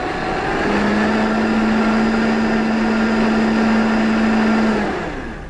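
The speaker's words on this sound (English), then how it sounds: "let me blend this up" Blender whirring loudly as it purees a bean sauce, a steady motor drone that holds for about four seconds and then winds down, with no one talking.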